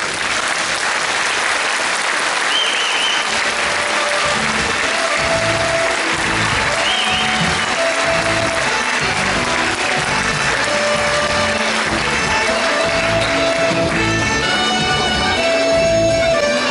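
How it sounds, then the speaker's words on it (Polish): Sustained audience applause at a charity event, dense steady clapping from a crowd filling the whole stretch, with a few brief tonal sounds over it. "Proszę jeszcze raz o oklaski."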